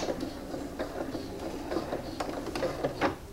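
A sewing machine starts a seam on a zippered toiletry pouch, its quiet, rapid needle clatter running in short bursts with a few sharper clicks as it stitches back and forth.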